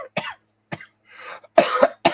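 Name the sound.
cough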